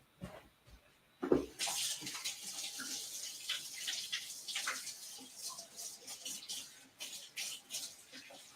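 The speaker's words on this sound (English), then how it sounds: "Gonna wash that frosting right out of the tip." Tap water runs steadily to rinse cream cheese Oreo frosting out of a cake-decorating piping tip, a continuous splashing stream after a brief quiet start, with small clatters and no talking.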